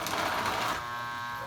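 A dry, unlubricated Marx 1666 toy train locomotive runs with a dense mechanical whir and rattle for most of a second, then cuts off to quieter residual hum.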